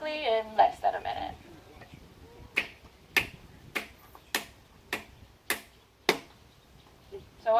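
A coconut struck along its seam line with a small lava rock, giving a series of sharp, separate knocks spaced about half a second apart, close and clear, with a person speaking briefly before the hits start.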